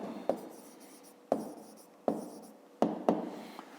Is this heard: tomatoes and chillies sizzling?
no